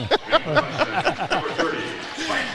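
High school basketball crowd at an Indianola versus DC-G varsity boys game chanting in unison, a quick rhythmic run of loud voiced syllables that fades into scattered crowd noise.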